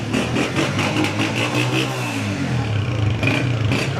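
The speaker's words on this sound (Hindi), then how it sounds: "उससे पहले जरा इंजन कैसा बता दें।" A Honda CB125F 125cc motorcycle engine runs close by with a steady, clattering mid-pitched drone, rising slightly in revs near the end and continuing for about four seconds without talk.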